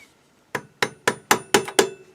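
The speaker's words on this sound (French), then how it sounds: "Alors, hop, marteau." A hammer strikes parts while a motorcycle camshaft is being fitted: six sharp, ringing metallic blows in quick, slightly accelerating succession, close and loud, with no talk.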